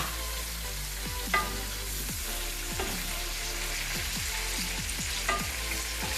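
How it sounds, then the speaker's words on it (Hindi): Whole tomatoes go into hot oil for a Peshawari charsi chicken karahi, giving a dense, even sizzle heard close. A few quick scraping stirs and a couple of louder splashing pops rise over the frying, with no voices. "तो अभी इसमें हम डालेंगे टमाटर, 7 से 8 अदर टमाटर डालेंगे और ये पूरे साबुत जो है ना ऐसे डाल दिए"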